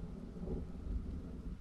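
Rain and thunder in the Boogeyman 2 video game make a faint, steady low rumble with a hiss of rain beneath it, alone and without speech.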